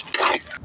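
Garlic cloves with skins on and ginger being stirred in a hot pan for adobo with onion, a short scraping stir over sizzling, loud and close, with no talk.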